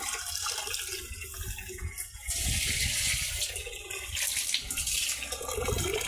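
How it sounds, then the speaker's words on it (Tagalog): Water poured into the drinking container of a pig pen, a steady close splashing and trickling stream with a brief dip midway before the pouring resumes. "Lagyan po natin ng tubig ang lagayan mga kababoy."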